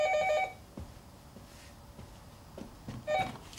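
An indoor telephone rings in short electronic bursts, one at the start and another near the end, with quiet room sounds between them.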